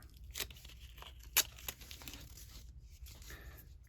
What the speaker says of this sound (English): My tape is sticking together.